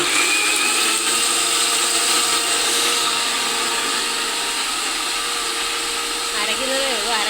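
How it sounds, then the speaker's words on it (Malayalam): An electric mixer grinder whirs loudly and continuously while blending curry paste for an ash gourd curry, holding a steady high motor whine with little change from start to finish. "അരയ്ക്കുന്നതിൻ്റെ സൗണ്ട് ഭയങ്കര സൗണ്ടാണ്."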